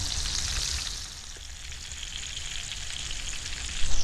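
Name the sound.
frying tinapa (smoked fish) in backyard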